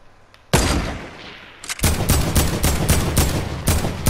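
Fortnite gunfire cracks out close and loud: one single shot, then a rapid string of about eight evenly spaced blasts over a noisy game background.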